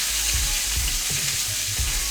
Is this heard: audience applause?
no